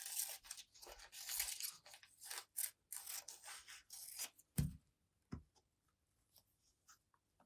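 Scissors snipping dark grey paper for a collage road piece, a quick series of close, crisp crunching cuts followed by a few sparse paper rustles and quiet handling sounds.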